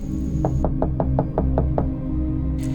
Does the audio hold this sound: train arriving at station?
no